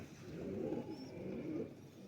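A crested pigeon coos softly nearby, a few low, rounded murmuring notes rising and falling over about two seconds, faint and quiet against a still background.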